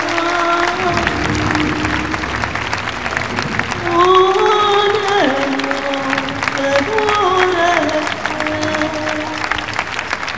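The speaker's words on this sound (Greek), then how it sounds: "Ένα θερμό χειροκρότημα, κυρίες και κύριοι, σε όλους τους συντελεστές του δράματος" A crowd gives warm applause for the cast of a drama at a commemorative event, dense clapping throughout while a musical tone with sliding pitches plays over it.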